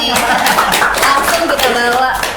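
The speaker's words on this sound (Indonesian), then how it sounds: "Tepuk tangan dong." Dense, steady applause from a crowd, loud and close, with voices mixed in beneath the clapping, at a campus podcast event in Indonesia.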